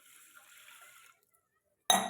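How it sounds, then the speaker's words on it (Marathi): Water from a glass pours into lentils in a pot, giving a faint gurgling trickle for about a second, then a pause, and ending in a sudden louder splash. "आता ह्या डाळीमध्ये मी पूर्ण एक ग्लास पाणी टाकून घेणार आहे"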